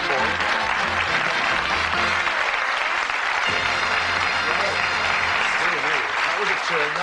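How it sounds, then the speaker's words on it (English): Studio audience on the 1982 British game show Bullseye gives a long, dense, loud round of applause that holds steady for seven seconds, with a faint musical tone and some voices beneath it. "Give them a nice warm round of applause."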